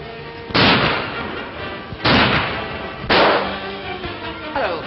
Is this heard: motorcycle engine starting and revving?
no